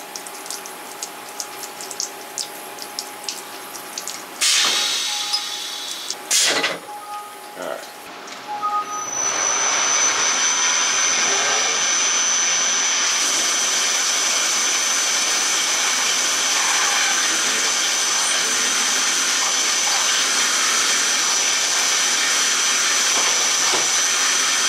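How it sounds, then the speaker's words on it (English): A few clanks and mechanical knocks, then a machine starts center drilling metal and settles into a loud steady whir with spraying coolant hiss, continuing evenly. "Just a quick center drill operation."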